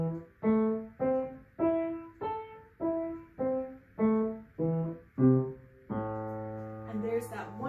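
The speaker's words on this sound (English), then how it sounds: "So from here, we're going to play our minor tonic arpeggio." A minor arpeggio on piano, a rhythmic run of separate struck notes, roughly nine clear ascending and descending tones, ending on a held chord that rings out.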